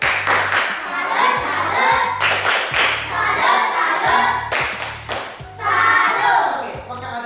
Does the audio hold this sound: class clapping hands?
yes